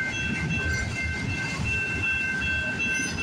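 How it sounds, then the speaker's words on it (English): Canadian Pacific train rolling past on the tracks near midnight, a continuous loud rumble with wheel and rail noise and faint high squeal tones, no voices. "as soon as this train passes, I'm going right home"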